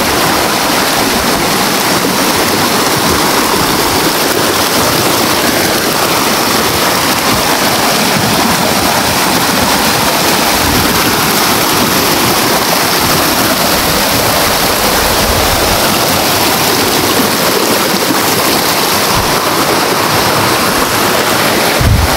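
Steady broadband rush of a stream flowing along a path up to farm fields, loud and continuous throughout with no talk.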